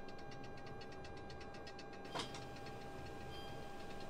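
Steady rapid clicking from the rotating engines of a C-17 Globemaster III military transport in a flight simulator, faint and regular over a constant engine drone, with one brief louder knock midway.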